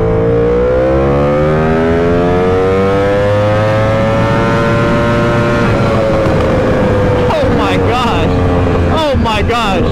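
A Yamaha R1M sport motorcycle accelerates hard at full throttle, engine pitch climbing steadily and loudly before sharp upshifts break the whine near the end, recorded close from the rider's position.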